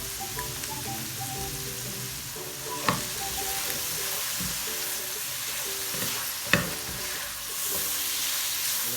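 Chicken kachori filling with spices and garlic-ginger paste sizzling and frying in a pan, a steady crackle with a couple of sharp clacks as it is stirred, close and without any voices.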